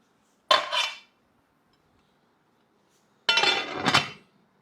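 A lid set onto a pot of rice cooking over high heat in hot water, two separate metallic clanks and rattles about three seconds apart, close and fairly loud, with quiet pauses and no talking.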